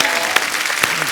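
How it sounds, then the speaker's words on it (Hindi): A studio audience on The Kapil Sharma Show bursts into loud applause for Ustad Amjad Ali Khan's sons Amaan Ali and Ayaan Ali, a dense, brief wash of clapping. "अमान अली और अयान अली के लिए जोरदार तालियां।"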